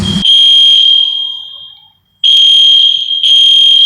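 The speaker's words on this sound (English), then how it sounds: "I'm gonna open the door just to hear the alarms" EST Genesis fire alarms in a vacant building, blaring a loud steady piercing tone that fades out for a moment, then cuts back in abruptly at full volume twice more, close and unrelenting.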